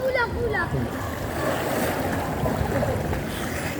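Surf and waves wash heavily through floodwater during a rescue, a steady broadband roar with wind buffeting the microphone and a brief voice near the start.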